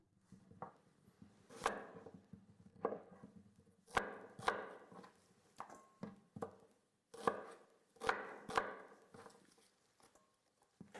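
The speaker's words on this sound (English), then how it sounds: "Just chop it up roughly as well." A knife chops an onion roughly on a board in irregular clusters of sharp, close taps with short pauses between, fairly quiet overall and with no talking.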